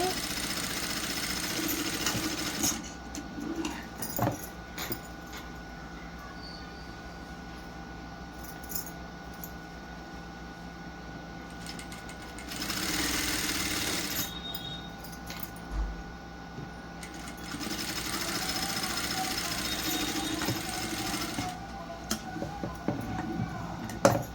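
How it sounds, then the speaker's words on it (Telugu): A sewing machine stitches the shoulder seams of a plain blouse, running in steady bursts of rapid whirring with pauses and small mechanical clicks between runs, moderately close, with a voice talking at times. "షోల్డర్స్ ఎప్పుడు కూడా మనం 2 సార్లు కుట్టుకోవాలి. కుట్టు మీద కుట్టే రావాలి."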